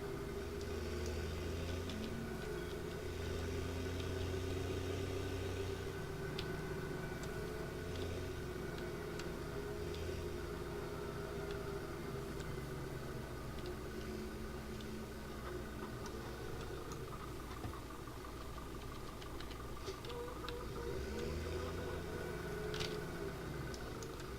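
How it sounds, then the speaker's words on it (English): A tractor engine runs steadily in a farming video game, a continuous mid-pitched hum with faint ticking, loud and constant from start to finish with no talk. "Already got 9 hours on this tractor."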